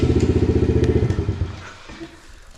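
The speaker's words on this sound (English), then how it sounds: "So we'll see how the Kawasaki starts now." A Kawasaki motorcycle engine fires up with a loud, rapid chain of throbbing pulses for over a second, then its beat fades and the engine stumbles into quieter, uneven rumbling.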